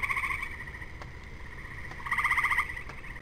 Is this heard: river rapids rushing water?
no